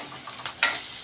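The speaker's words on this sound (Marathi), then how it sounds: "हा कांदा चांगला ब्राऊन होईपर्यंत परतून घ्यायचा" Chopped onion browning in a pan for a clam curry makes a faint, soft sizzle, with two quick spatula scrapes close together near the end. No voices.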